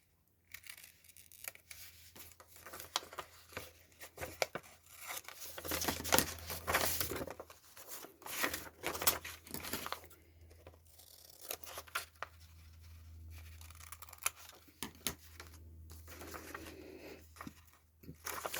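Scissors snipping and paper rustling while pockets are cut for a tall, thin handmade journal, a series of soft crisp cuts and crinkles, close and fairly quiet, with no talking.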